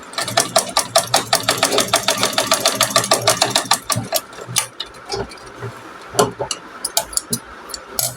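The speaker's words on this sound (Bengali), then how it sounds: "এখানে যে ফাঁকাটা ছিল সেখানে আমি সেলাই করে আটকে দিব" A sewing machine stitches a gap in a child's palazzo with a rapid, even chatter of needle strokes for about four seconds, then slows into a few short bursts separated by pauses.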